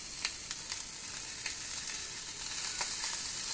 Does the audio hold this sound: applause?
no